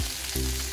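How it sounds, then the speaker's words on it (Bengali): Chopped onion hits hot oil already seasoned with whole spices, setting off a sudden loud, steady sizzle of frying that continues to the end. "এখন আমি পেঁয়াজ কুচানো দিয়ে দিচ্ছি।"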